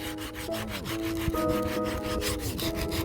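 Paint being scraped off red car seat belt trim, a steady rasping scrape with squeaky rubbing tones, continuous and close for the whole stretch with no talk.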